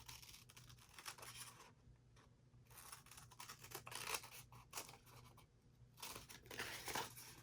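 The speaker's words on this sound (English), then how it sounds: "Now we're going to cut this off." Scissors cutting through paper while making a junk journal page: close, steady snipping and rustling in repeated bursts with brief pauses, crisp and fairly quiet, no talk.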